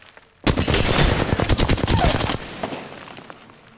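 Rapid bursts of automatic gunfire in a shooter video game, loud and close, a dense fusillade of repeated shots lasting about two seconds before tapering into fading echoes.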